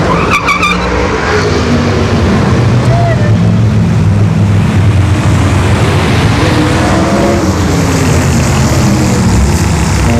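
A Ford Mustang S550 and a BMW 3 Series launch down a drag strip in a loud, continuous roar of engines and tire noise, swelling and washing out into a broad rushing drone.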